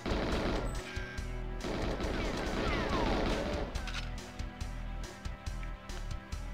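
In the GoldenEye video game, rapid automatic gunfire and a loud blast fill the scene, the sound dense and close, then breaking into sharper, intermittent shots toward the end.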